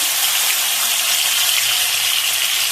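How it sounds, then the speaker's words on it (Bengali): Cashew nuts fry in ghee with a constant bright sizzle, close and fairly loud, unbroken and with no voices over it. "কাজু বাদাম ভেজে নিচ্ছি"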